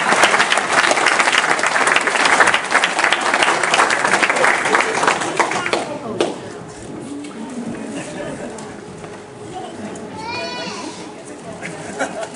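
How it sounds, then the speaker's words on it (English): Wedding reception guests burst into loud, sustained applause that fills the room for about six seconds, then fades to scattered clapping and murmuring chatter, with a brief high call near the end. "Would you please give them a round of applause?"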